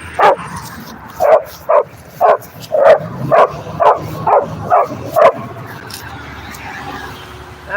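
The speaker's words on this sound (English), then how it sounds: "He's still barking at that dog." A dog named Chong barks repeatedly at a snow shoveler, about a dozen loud, evenly spaced woofs close by, then a quieter stretch near the end.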